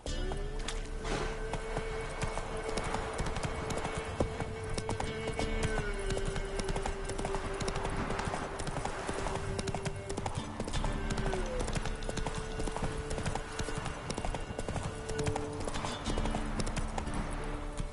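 Horse hooves clip-clop in a steady, rhythmic walking beat, continuous and fairly close, over a constant background hum.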